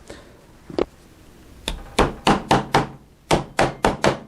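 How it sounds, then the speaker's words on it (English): A rawhide mallet striking a springy forged metal bracelet on a mandrel, a few scattered taps followed by two quick runs of four sharp, close blows each. "And now I'm going to use a rawhide mallet."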